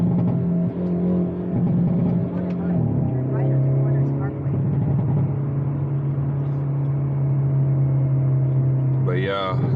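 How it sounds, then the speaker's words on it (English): A stock exhaust on a Hyundai Elantra N drones steadily under way, with a low engine hum that shifts pitch around the three-second mark and again near the end as speed changes, mostly continuous and fairly close. "the exhaust is still stock, but it sounds really good for stock"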